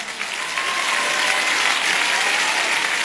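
An audience applauds singers at a Restos du Cœur Enfoirés concert, a loud, dense, continuous roar of clapping building slightly over a few seconds.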